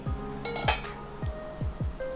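A pan lid is lifted off a cooking ragi uttapam with a few light metallic clinks and scrapes, close by, over a soft background hiss.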